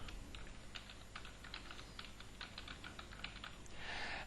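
Quiet, rapid typing on a computer keyboard, a steady patter of soft key clicks that runs for a few seconds close by with no one talking.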